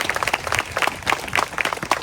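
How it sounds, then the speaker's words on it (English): A big round of applause from the crowd at the Porterville Flag Day ceremony, dense steady clapping filling the short stretch, fairly close and loud with no talk over it. "Let's give him a big round of applause."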